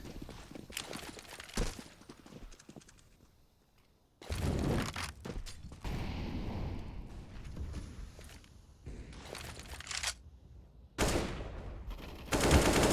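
Bursts of automatic rifle spray in a Counter-Strike match on the Dust 2 map, loud, sharp rattling volleys interrupted by quieter stretches, with a final burst at the end.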